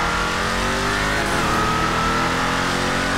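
The Ruiner ZZ-8 car engine in a video game revs hard and loud after a spin-out, a continuous strained roar with pitch rising and dipping midway, no talk.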